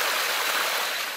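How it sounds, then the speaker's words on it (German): Small waterfalls and streams in Virachey National Park in the jungle produce a steady broadband rush of falling water, continuous and fairly loud throughout with no voices. "Überall, wo man hier rumläuft, kleine Wasserfälle und trinkbares Wasser."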